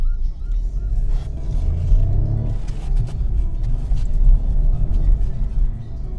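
A Renault Clio 5 with a 100 hp engine drives through town, its engine a steady low rumble with road and tyre noise throughout, mild revving and no speech.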